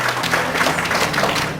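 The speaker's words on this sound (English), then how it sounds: "Please, yes, give them a round of applause." A gala audience gives a round of applause, dense and continuous clapping from a crowd at an even level throughout.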